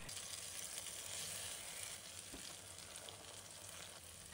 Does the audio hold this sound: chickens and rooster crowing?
no